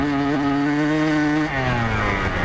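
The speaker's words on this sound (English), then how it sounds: "My dirt bike is pretty loud" A loud dirt bike engine revs hard during a ride, its pitch climbing and settling in smooth sweeps, close and continuous with no talk.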